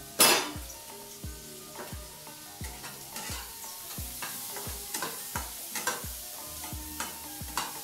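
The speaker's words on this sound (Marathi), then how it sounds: "परतवून घ्यायचं आहे." A paneer snack mixture is stir-fried in a pan, the spatula scraping and clinking against the pan in a steady rhythm over a continuous sizzle, up close and with no talk.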